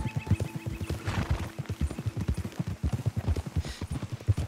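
Horse hooves clip-clop in a steady, rapid rhythm across Red Dead Redemption 2 terrain, close and fairly loud, with faint game ambience beneath and no voices.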